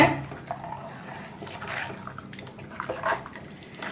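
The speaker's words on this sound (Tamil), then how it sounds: "இது அரிசி கழிஞ்ச தண்ணி ஊத்திட்டு இருக்கேங்க" Rice-washing water being poured into egg curry in a pot, a gurgling, splashing stream with small surges, close by and with no voices.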